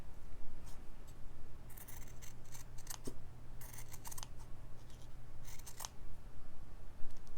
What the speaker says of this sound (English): So I'll just cut my squares.